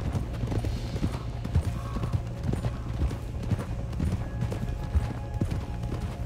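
Horse hooves clip-clop steadily in Red Dead Redemption 2, a continuous walking rhythm of moderate loudness over a dense game ambience of low rumble and soft background noise.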